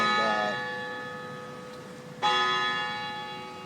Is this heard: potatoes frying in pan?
no